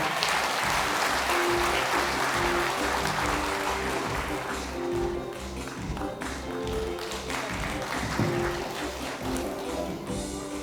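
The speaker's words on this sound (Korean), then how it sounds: "큰 박수로 환영 부탁드리겠습니다." Applause from the audience at a county sports association's candidate debate in Yeonggwang, welcoming the association's chairman: steady, broad clapping over a rhythmic background with a low pulsing beat, fading slightly toward the end.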